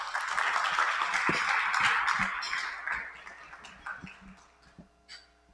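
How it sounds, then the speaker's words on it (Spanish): Welcoming applause from a conference audience for a visiting consultant, a dense wash of clapping that swells for about two seconds, then thins into scattered individual claps as it fades. "Para él también un aplauso de bienvenida."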